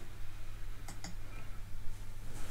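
Two quick computer mouse clicks in video editing software, close and crisp, spaced a fraction of a second apart over a steady low room hum.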